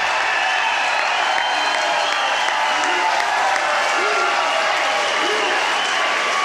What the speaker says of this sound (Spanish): los simpatizantes no paraban de gritar, aplaudir y emocionarse al escuchar eso por al menos 30 segundos